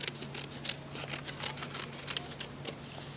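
Scissors cut slowly along a marked line on charcoal gray paper, making faint, quick snips that repeat over a low background hum.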